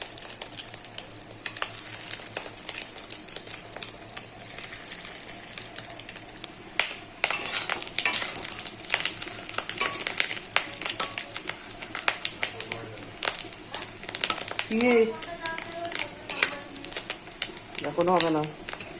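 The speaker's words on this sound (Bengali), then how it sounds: "বড়া ভাজা হচ্ছে, মাছের ডিমের বড়া ভাজা।" Fish roe fritters fry in a pan with a steady, moderate hiss and crackle that runs throughout, while people talk and birds call in the background.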